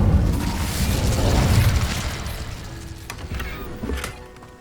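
Incendio fire spell cast in the video game Hogwarts Legacy: a loud, roaring burst of flame that swells and crackles for a few seconds, then fades out with a couple of smaller pops near the end.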